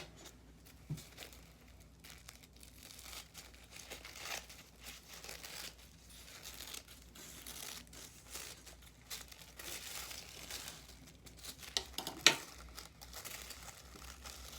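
Tissue paper is folded and handled, giving soft, continuous crinkling and rustling close by, with a few sharper crackles, quiet and with no talking.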